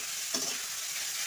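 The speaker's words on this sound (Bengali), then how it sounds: "তারপর পেঁপেগুলো ওর মধ্যে দিয়ে দেব" Grated papaya hitting hot oil tempered with black mustard seeds and red dry chillies, a brief hiss and stir that rises, then settles into a steady soft sizzle, close and alone.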